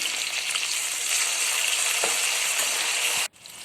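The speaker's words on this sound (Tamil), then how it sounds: "வெங்காயம் நல்லா வதங்கட்டும்." Onions and tomato sautéing in a pan for Tamil kara kulambu give a steady, bright hiss of sizzling oil up close, with a soft stir or tap partway through. The sizzle cuts off sharply near the end, then returns more quietly.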